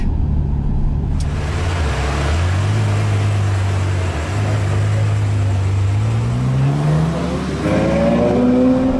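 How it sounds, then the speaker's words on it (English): A Ferrari 812 Superfast, an 800-horsepower V12, driven on the Fiorano track. A loud, close engine drone holds and dips as the car shifts, then revs climb steadily toward the end, with no talking. "driving the very latest V12 from Ferrari in the motherland at Fiorano on track"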